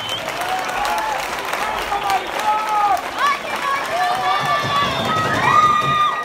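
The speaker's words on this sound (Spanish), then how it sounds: "quiero que se lleven un aplauso bien merecido todas ellas" Audience at a regional COBACH pageant applauds the participants with steady, dense clapping, with rising whistles and cheers cutting through across the whole stretch.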